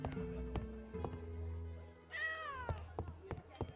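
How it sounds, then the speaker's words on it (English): An angry cat in the video game Travellers Rest lets out several sharp, rising meows in short bursts, mixed with soft clattering game sounds in between. "Man, cat actually sounds kind of pissed off."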